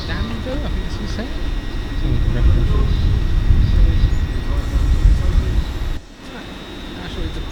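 A Class 800 train passes through a station with a loud, broad rumble that builds and holds for several seconds, then drops off abruptly near the end as the passing noise fades.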